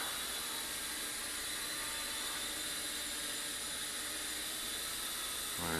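Syma X11 Hornet quadcopter drone with large propellers hovering in flight, giving a steady, loud broadband whir that holds unchanged for several seconds before a brief shift at the end.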